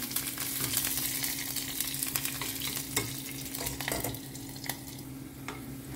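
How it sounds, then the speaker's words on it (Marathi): Green chilies and curry leaves fry in hot oil for a tadka, giving a steady close sizzle with scattered crackles and a low hum beneath, no voices. "आतां हांव घालता एक 2 ग्रीन चिली लांबसर कट करून घातला आनी थोडेशें कढीपत्ता. मातशें एकानी फ्राय करून घेवया."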